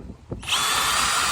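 After a brief pause, a power drill spins up sharply and keeps whining steadily, close and loud, as it marks hole positions on the roof of an LDV G10 van for fitting roof bars.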